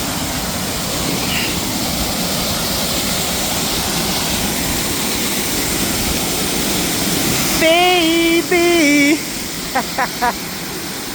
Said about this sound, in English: I think that's better than the first waterfall down there